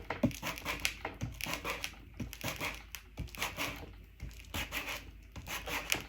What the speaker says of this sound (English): I'm just going to kind of scrape across it.